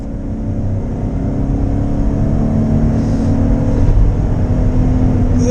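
Jeep Wrangler with a 3.6-liter Pentastar V6 accelerating up a freeway on-ramp, a steady, loud engine drone building gradually inside the cabin with road rumble underneath.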